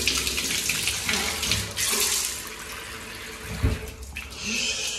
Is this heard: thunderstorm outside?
no